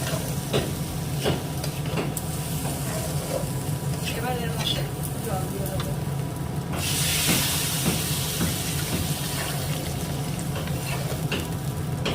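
Khichuri fries and is stirred with a spatula in a pan, giving a steady low sizzle under scraping strokes, with a brief louder hiss of steam partway through.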